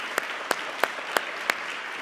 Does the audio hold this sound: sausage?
no